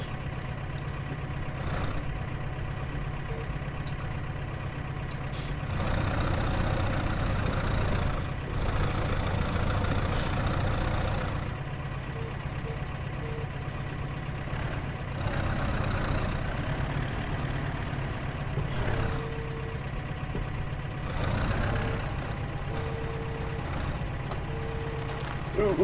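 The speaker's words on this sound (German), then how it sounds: "Da kommt der MP-Traktor in das Schwitzen." A tractor engine in a farming video game drones steadily and loudly throughout, rising in strain at times, with faint beeps and clanks over the low rumble.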